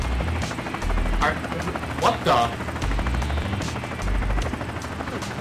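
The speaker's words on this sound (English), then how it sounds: "We're taking control of a helicopter." A helicopter in the video game The Escapists 2 gives off a steady, loud rotor and engine drone that runs through the whole stretch, with a few sharp bursts on top and a brief spoken exclamation over it.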